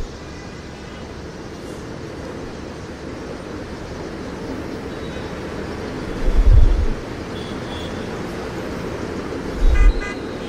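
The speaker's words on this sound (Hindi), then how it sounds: "बिजी है रोड है ना उधर से अलग ट्रैफिक आ रही है" Busy night road traffic in Gulshan 2, Dhaka: a steady, continuous roar of passing vehicles, broken by two short car-horn honks.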